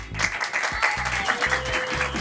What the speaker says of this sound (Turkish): Alkışlıyoruz yazlıkçıları.